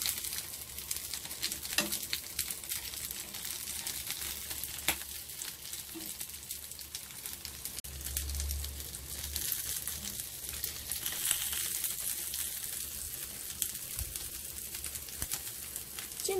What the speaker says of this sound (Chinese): 煎到呢邊金黃都 OK 嘅啦